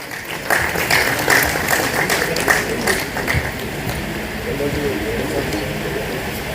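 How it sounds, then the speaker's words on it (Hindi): An audience at a BSNL jubilee day stage event claps in a dense, sustained burst of applause to welcome the guests on stage, loud at first and slowly thinning, with a voice speaking over it. "जोरदार तालियों से स्वागत।"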